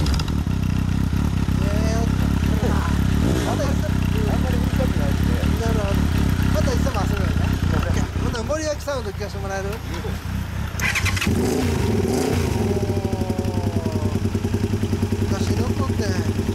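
A 2014 Kawasaki ZRX1200 DAEG motorcycle fitted with a Striker exhaust rumbles and revs loudly nearby, with a deep, throbbing idle and a few throttle blips while people talk over it.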